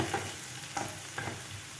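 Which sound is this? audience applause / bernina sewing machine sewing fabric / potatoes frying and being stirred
potatoes frying and being stirred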